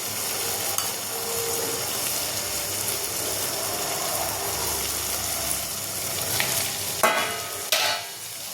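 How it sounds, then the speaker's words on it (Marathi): Tomato and spices frying in hot oil in a pan while being stirred, for a drumstick and gram-flour curry: a steady close sizzle throughout with scraping stir strokes and a couple of sharper clinks near the end. "बघा, छान तेलामध्ये तळलं जातात"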